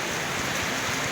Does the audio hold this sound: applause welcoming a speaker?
no